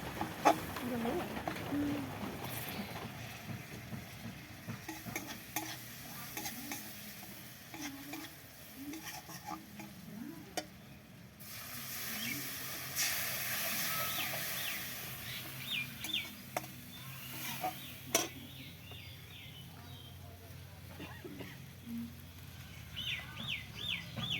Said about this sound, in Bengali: চলো মশলাটা ভালো করে কষি